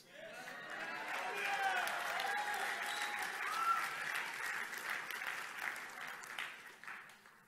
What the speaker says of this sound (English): You clapped your hands too soon.